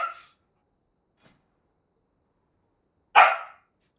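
Two short dog barks from puppies, a loud close yelp at the end and a fainter one at the start, separated by near silence.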